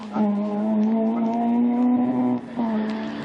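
A rally car on a stage race comes down the promenade with a loud, steady engine note and brief tyre skids, the engine close and dominant throughout with a faint commentator voice underneath.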